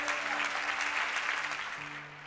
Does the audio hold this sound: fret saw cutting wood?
no